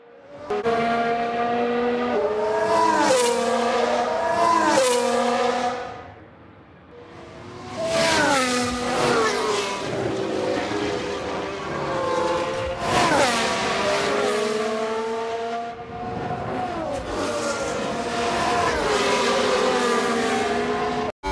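Formula 1 cars on a qualifying lap in F1 Manager 22 scream through rising and falling gear changes, with high revving engine notes that swell past in waves and dip briefly between runs, loud and close, with no voices.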